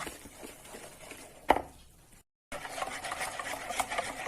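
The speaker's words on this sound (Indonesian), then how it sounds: "Kemudian masukkan sedikit demi sedikit santan kanilnya sambil kita aduk sampai rata." Stirring an egg and coconut milk batter for serabi in a bowl: faint, soft swishing and scraping strokes, one sharper knock, then a brief moment of silence before the stirring resumes.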